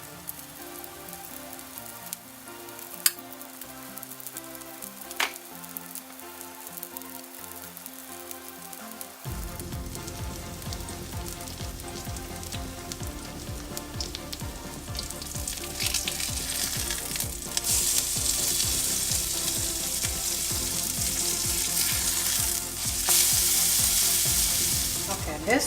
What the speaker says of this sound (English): I'm going to grill my bread on here.